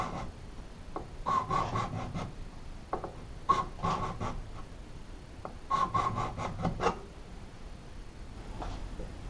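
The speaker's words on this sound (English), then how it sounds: "Time to check the performance of the card scraper. First on a piece of Tassie oak." A steel card scraper shaves across a piece of Tassie oak in three bursts of quick rasping strokes, with short pauses between them. The scraping is close and moderately loud, and no one speaks.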